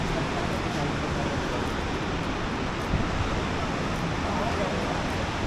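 Rushing water at Niagara Falls roars as a steady, dense wash of broadband noise that holds constant and loud throughout, with no breaks.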